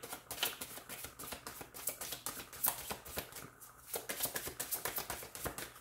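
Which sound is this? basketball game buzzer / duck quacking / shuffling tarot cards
shuffling tarot cards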